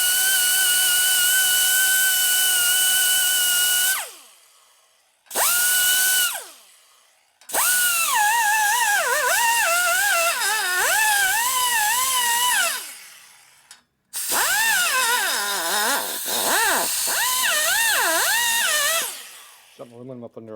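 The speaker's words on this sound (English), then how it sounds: "Something aluminum up in there I'm cutting." High, whining die grinder cutting aluminum inside the port of a 1950 Harley panhead cylinder head, in several loud bursts that rise and fall in pitch as the load changes, separated by short silences, close up.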